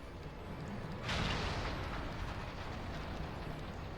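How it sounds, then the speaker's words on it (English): Cannons return fire in a video game airship battle under attack by Magitek armor, with a heavy boom bursting out over continuous low rumbling battle noise that rolls on without a break. "All cannons, return fire, damage report."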